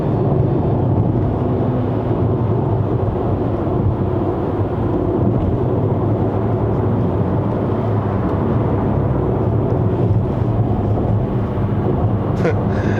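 Inside a GAC GS3 Emzoom 1.5L turbo car climbing uphill at about half throttle, a loud, steady engine and road roar holds at the same level the whole time, with no pauses.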